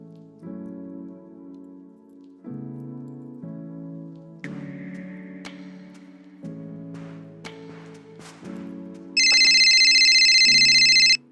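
A home phone rings with a melodic ringtone, a series of tonal phrases repeating for several seconds and ending in a louder, brighter burst of electronic ringing, with no one speaking over it.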